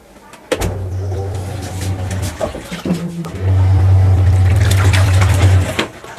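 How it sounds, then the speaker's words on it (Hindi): A washing machine loaded with clothes runs in a home, giving a steady loud low motor hum with sloshing water. The hum surges, drops briefly in the middle, then swells louder again before easing off. "अभी देखिए वॉशिंग मशीन चल रही है यहाँ पर"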